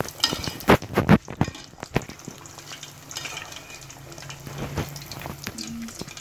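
Fish pieces frying in hot oil over a high flame, with a steady close sizzle and stirring sounds, and a few louder spatters near the start.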